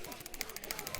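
Rapid, evenly spaced clicking from mining in Minecraft, a quick steady run of about ten faint, crisp ticks in a second.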